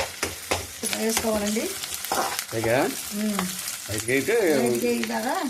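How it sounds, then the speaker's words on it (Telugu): Onions and green chilies frying in a pan for chicken curry, a close hiss and stirring scrapes, partly under a voice that talks over it. "ఉల్లిపాయ మంచి కలర్ వచ్చిన తర్వాత, ఉల్లిపాయ బాగా వేగిన తర్వాత అప్పుడు పచ్చిమిర్చి వేసుకోవాలండి."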